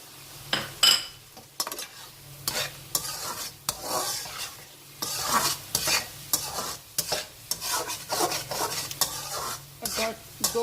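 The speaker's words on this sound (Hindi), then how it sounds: "और 2-3 मिनट के लिए इसकी और अच्छे तरीके से मैं भुनाई करूंगी" Chicken ginger with green chillies frying in a pan and being stirred, with repeated scraping and clinking strokes of a spoon against the pan over a steady sizzle. No one speaks.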